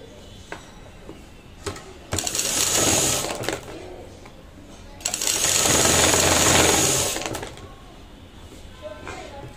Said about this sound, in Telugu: ఇప్పుడు నడుం పట్టి జాయింట్ చేస్తున్నాను